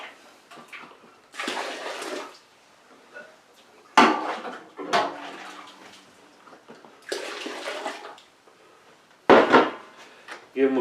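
Rye whiskey mash grains stirred in hot water, with bursts of sloshing, splashing and scraping that come and go in uneven waves, fairly close, with pauses between strokes.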